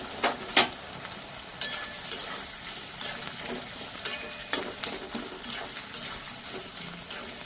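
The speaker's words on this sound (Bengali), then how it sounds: "তেল গরম হয়ে গেছে, এবার কুচিয়ে রাখা পেঁয়াজ দিয়ে দেবো।" Chopped onions, three medium ones, fry in hot mustard oil with a steady crackling sizzle, broken by sharp spoon clicks and scrapes against the pan at an irregular pace.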